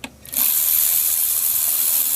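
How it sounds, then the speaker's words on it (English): A power tool runs steadily on the oil pan bolts of a Ford 6.0 Powerstroke diesel, a sustained close, loud whirring drone after a brief start, with no talk. "So I'm just going to undo these bolts and then take it down."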